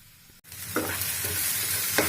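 Crab masala frying in hot oil in a pan, a steady close sizzle with brief stirring scrapes over about two seconds.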